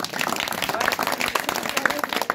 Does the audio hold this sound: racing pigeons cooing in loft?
no